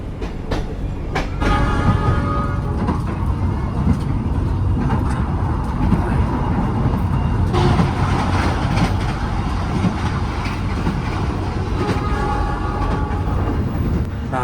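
Cikuray passenger train hauled by a CC 206 locomotive on Indonesian track near Karawang, heard from onboard as a loud continuous rumble with rhythmic wheel clatter over rail joints and occasional brief tonal squeals.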